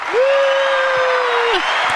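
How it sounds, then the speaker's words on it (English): A live studio audience breaks into brief applause, with one voice holding a long, steady whoop over the clapping for most of the two seconds. "Let's get a round of applause."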